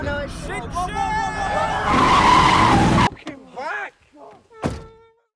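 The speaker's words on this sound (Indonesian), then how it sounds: "dalam perjalanan mereka mengalami sedikit kecelakaan yang mengakibatkan mobil mereka menjadi rusak" A car skids in a movie accident, a long loud tire screech with a harsh grinding burst, then a sudden cut to quieter scattered squeals and a sharp final knock.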